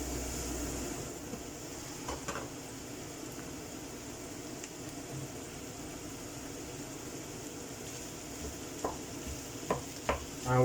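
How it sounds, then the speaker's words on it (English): Minced meat frying in a pan with a steady, quiet sizzle, joined by occasional soft scrapes of stirring that grow a little louder near the end, close up with no talking. "So now, let's add the minced meat."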